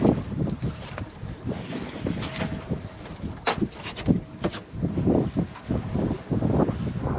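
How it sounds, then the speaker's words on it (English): A sailboat's engine drones roughly under gusty wind buffeting the microphone off the Yucatan, with uneven surges and water sloshing. "That horrible noise that you hear is the engine"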